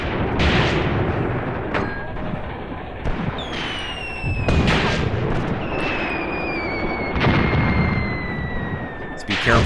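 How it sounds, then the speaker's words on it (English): Artillery booms and explosions in the tank warfare game Graviteam Tactics: Mius Front, a string of sharp heavy blasts with whistling incoming shells, spread irregularly over a rumbling battlefield while someone talks. "So that's probably our artillery heading out towards the enemy"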